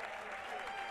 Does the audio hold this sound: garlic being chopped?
no